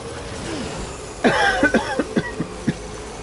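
A short burst of several dry, rasping coughs, close up, during a bike ride, following a quiet stretch of low rumble.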